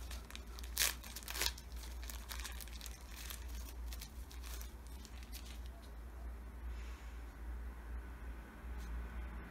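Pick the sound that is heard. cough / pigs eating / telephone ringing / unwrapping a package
unwrapping a package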